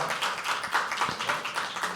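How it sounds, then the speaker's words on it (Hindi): Audience clapping at a live poetry open mic, a brief dense burst of hand claps from a small indoor crowd, close and steady throughout. "तालियों का शोर बढ़ाएंगे"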